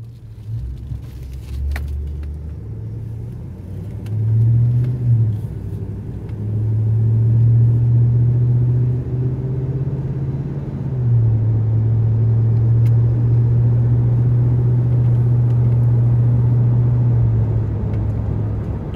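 Low, steady exhaust drone inside a truck cab fitted with a Walker Quiet Flow muffler, a deep hum that swells slightly as the engine pulls, with no talking.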